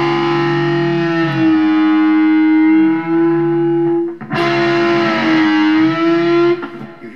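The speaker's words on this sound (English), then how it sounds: "when you distort them and you do a double stop bend" Distorted electric guitar holds a sustained double-stop bend, its strong harmonics sliding up and down in pitch as the bend moves, with a short break and a second bend that fades out; no talking.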